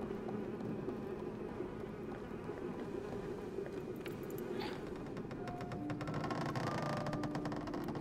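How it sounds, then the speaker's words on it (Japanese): Flies buzzing around a pile of rotten food in Little Nightmares II, a steady close droning hum with fluttering wingbeats that swell slightly toward the end, heard without any talking. "ハエがたかってて。"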